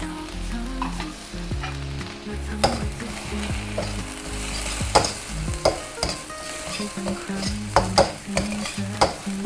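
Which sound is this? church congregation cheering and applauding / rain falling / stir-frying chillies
stir-frying chillies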